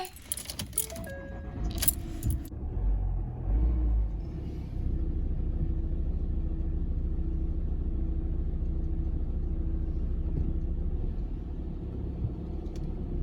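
Keys jangle loudly for a couple of seconds, then a van's engine settles into a steady low rumble as it drives along a road in Guernsey in the Channel Islands, heard from inside the cabin with no talk.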